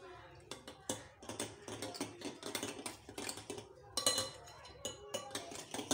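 A spoon stirs chaat masala and white pepper into a curd vegetable salad in a bowl, giving a run of light, irregular clinks and scrapes against the dish close by.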